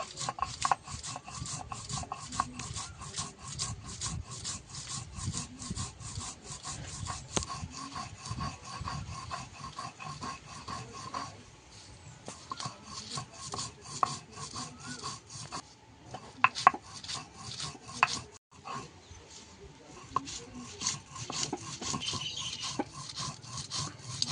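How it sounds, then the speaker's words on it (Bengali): Dried red chillies ground by hand into a fine paste: steady, rhythmic rasping and scraping strokes repeat close up for a long stretch, with brief pauses and no voices. "লঙ্কাটা আমি একদম মিহি করে বেটে নেব।"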